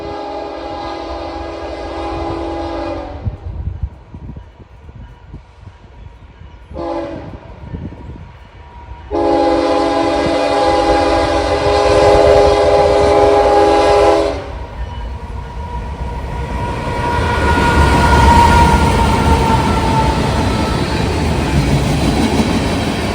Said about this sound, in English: would finally make its way through Westerville just before 8 o'clock on southbound mixed freight train 18W